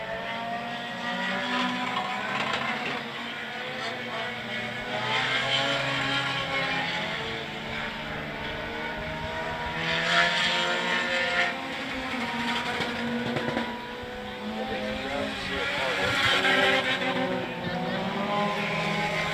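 Several race cars roaring around Cotton Bowl Speedway, a dirt track just outside San Antonio, Texas, during a heat race, with engine drone rising and falling steadily as cars pass, under a race announcer's commentary.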